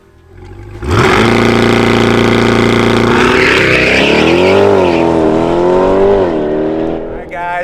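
Pre-production 2024 Chevrolet C8 Corvette E-Ray convertible engine bursting to life and revving hard, loud and close, the pitch climbing and wavering through several surges before easing off.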